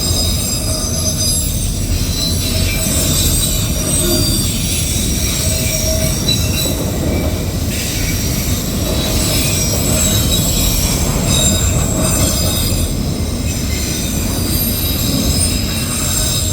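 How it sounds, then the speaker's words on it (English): A CSX autorack freight train rolls past on the Old Main Line with a constant loud, high-pitched wheel squeal over heavy rail rumble, sustained throughout and heard up close. "It is so nostalgic to see autorack trains on the Old Main Line."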